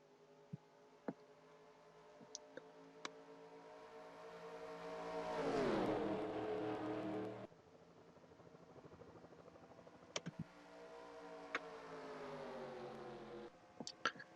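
NASCAR Cup Series stock cars racing in the 2020 Duel Race #1 at Daytona, with a pack of V8 engines droning and swelling as it passes close by, then fading to a steady distant roar, with clicks scattered throughout.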